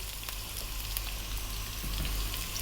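Onion and chili sizzle steadily in hot oil with curry leaves, a continuous close crackling hiss with small pops, for an Indian chicken curry.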